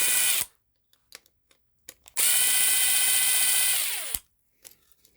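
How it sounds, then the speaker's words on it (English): A power drill unscrewing fasteners from a circuit board during an electronics teardown whirs in a short burst, then a longer two-second run that winds down, with faint clicks of handling between, close and loud. "Just always feels like epic overkill using that drill."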